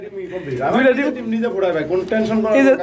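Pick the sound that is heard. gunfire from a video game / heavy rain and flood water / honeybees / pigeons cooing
pigeons cooing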